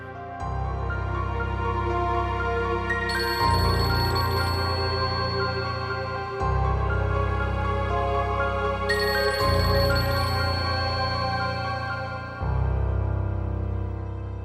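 A phone ringtone plays in a repeating tonal pattern, with bursts of roughly three seconds separated by brief gaps, steady and fairly loud, with no talking.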